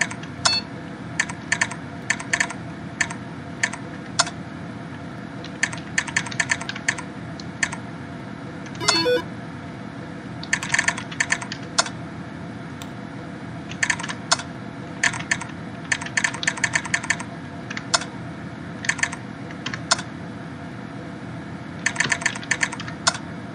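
Irregular bursts of key clicks from a computer keyboard typed hunt-and-peck style, close and steady over a low room hum, with short pauses between flurries and no voice.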